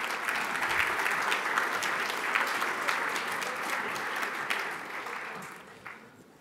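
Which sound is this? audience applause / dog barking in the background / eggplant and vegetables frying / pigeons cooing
audience applause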